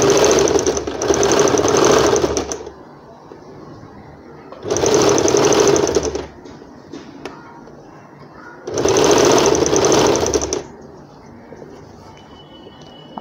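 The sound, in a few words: sewing machine doing return double stitching on a frock sleeve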